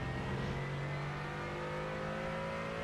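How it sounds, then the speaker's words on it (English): A Mercedes race car engine from a racing video game, in LMP3 trim, holds a steady, throaty yet smooth drone with sustained harmonic tones, loud and close throughout with no voices. "A little more throaty than the LMP3 engine, but still smooth"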